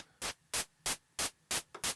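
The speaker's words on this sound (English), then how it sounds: "that's really the white noise by itself without the harmonizer on it" Six short bursts of white noise used to trigger a tiled-room drum reverb, dry with no harmonizer, each a sharp broadband hiss about a quarter second long, evenly spaced and loud, with silence between.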